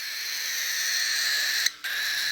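Baby cockatiels give a continuous high, shrill chorus of chirping calls, loud and close, broken by one brief gap before resuming.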